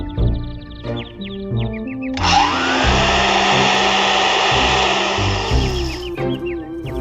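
A vacuum machine in the Gilbert Goodmate adventure game whirs loudly in reverse for several seconds, a steady rushing drone starting abruptly and cutting off, framed by short tonal game sound effects before and after.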